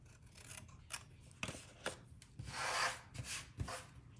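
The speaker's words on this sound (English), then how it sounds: "we're going to cut off that little edge portion there with a diagonal line" Paper being cut with scissors to shape a box lid, close and fairly quiet, with irregular snips and rubbing, scraping strokes and a longer swish in the middle.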